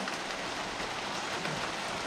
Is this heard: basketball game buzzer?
no